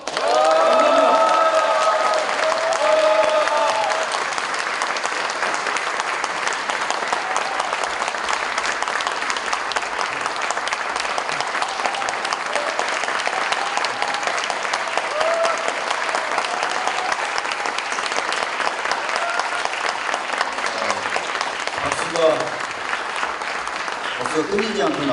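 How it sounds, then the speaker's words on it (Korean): Sustained audience applause at a Seoul mayoral campaign policy presentation, a dense steady wash of clapping lasting the full stretch with little variation in loudness and some crowd noise mixed in. "박수가 끊이지 않고 나와서"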